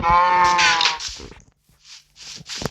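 A short, tonal video game cow moo sounds at the start, followed by a few soft, brief clicks and thuds after a moment of near silence.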